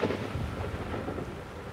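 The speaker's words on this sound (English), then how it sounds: "That's big rain coming." A sudden heavy downpour with thunder high in a South African mountain range: a loud, continuous roar of rain and rumbling, close and unbroken throughout.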